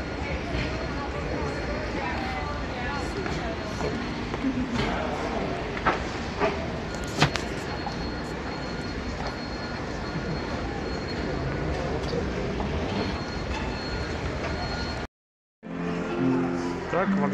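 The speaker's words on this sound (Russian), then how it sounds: "и мы теперь идем по вокзалу" Ambience of walking through Edinburgh Waverley railway station: a steady crowded hall murmur with occasional clatters and distant train rumble, a person talking over it, and a brief dropout near the end.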